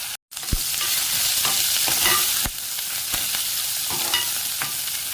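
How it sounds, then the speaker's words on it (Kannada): Garlic, onion and chickpeas fry in a pan with mustard seeds and cumin, giving a loud steady sizzle broken by sharp scraping stirs and a brief silence near the start. "ಸ್ವಲ್ಪ ಬ್ರೌನ್ ಕಲರ್ ಆಗೋವರೆಗೂ ಚೆನ್ನಾಗಿ ಬಾಡಿಸ್ಕೊಳ್ಬೇಕು"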